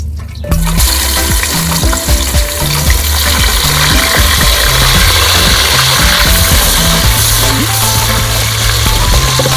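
Loud, continuous sizzling of garlic, onion and tomato frying in hot oil in a saucepan, a dense hiss that holds steady throughout, close by.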